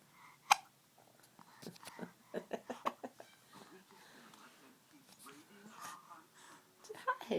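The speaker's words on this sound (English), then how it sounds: "Oh, I have the hiccups." Child hiccupping in a quiet room, a few sharp, abrupt catches of breath spaced out among soft breathing and murmured speech, close and faint.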